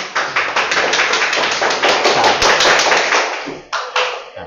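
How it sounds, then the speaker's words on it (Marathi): Students in a classroom clap for a classmate who solved a maths game correctly, a dense, loud burst of applause that runs steadily for several seconds, then stops briefly before a final short flurry. "टाळ्या वाजवा."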